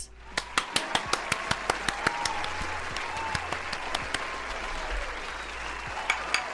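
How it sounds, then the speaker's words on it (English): One person clapping hands slowly and steadily, about a dozen sharp, close claps in a regular rhythm followed by a pause and a couple more, over a faint background hum. "so that means I'm clapping for you."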